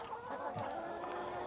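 A farm chicken clucks softly in short, quiet bursts, fairly close, with faint background noise.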